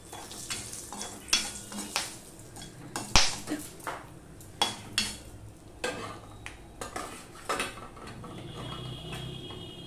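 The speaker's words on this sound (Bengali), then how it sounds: "আর দিয়ে দিলাম গোটা গরম মশলা।" Whole garam masala spices sizzle steadily in hot oil in a pan while a utensil stirs, with scattered clinks and scrapes against the metal; no one speaks.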